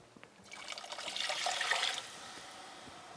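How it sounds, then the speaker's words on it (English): Chicken broth pours into a pot in a steady stream for a couple of seconds, swelling then easing off into a softer trickle. "And now we're going to add the 2 cups of chicken broth."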